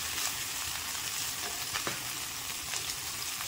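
Potato, papaya and green banana pieces frying in a pan with salt and turmeric, a soft, steady sizzle with occasional crackles and faint stirring scrapes, no talking.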